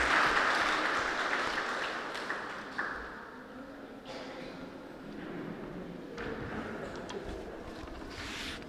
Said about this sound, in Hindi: आप सभी तालियों का सहयोग जरूर दें